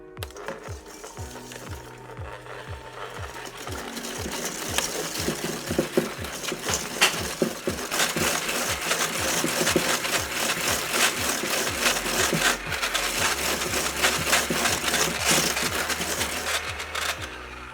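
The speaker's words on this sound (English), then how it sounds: "Then I'm just going to mix this up with my hand mixer until it's light yellow and fluffy." Hand mixer beating keto tiramisu batter until light yellow and fluffy: a steady, close motor whir with rapid rhythmic beater clatter against the bowl, continuous throughout with no talking.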